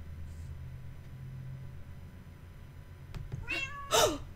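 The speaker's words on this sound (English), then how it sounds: "Kitty cat. Look, kitty." A Minecraft cat gives two short meows near the end, the second louder, over quiet low background rumble.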